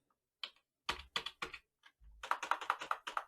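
Computer keyboard typing with separate key taps, then a quick run of evenly spaced keystrokes, close and clear, with no voices.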